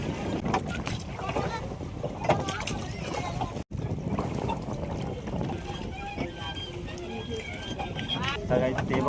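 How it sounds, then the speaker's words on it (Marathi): A boat ride on the lake at Mahabaleshwar, with steady water churning and wind buffeting the microphone throughout, plus a brief dropout partway through. "आता आम्ही आलोय बोटिंगवरती म्हणजे ह्याच्यावरती आलो आहे."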